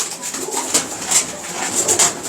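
Teddy pigeons coo close by in soft, repeated throaty calls, with a constant high-pitched hiss in the background.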